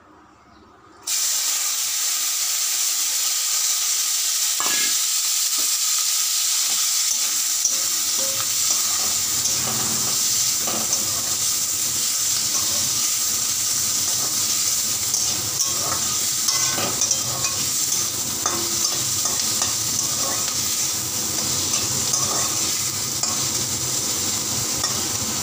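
Fish frying in a pan with spice masala, being stirred: a steady loud sizzle and hiss runs throughout, with occasional scraping stir sounds and no talking.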